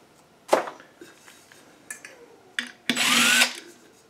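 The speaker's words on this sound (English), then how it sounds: "If you're going to use a drill to do this" Power drill driving out ceiling fan screws during a Harbor Breeze fan installation: a few short whirring bursts with small clicks and metallic clinks between them, ending in a longer, louder whine up close.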